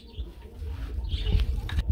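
Pigeons cooing at a pigeon farm, soft low murmuring coos with a few faint chirps over steady background noise, no talking.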